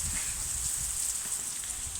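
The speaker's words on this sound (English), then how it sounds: "So we've got torrential rain" Torrential rain pouring down outside a shelter at an ancient farm, a steady, dense hiss that keeps going without a break and with no voices.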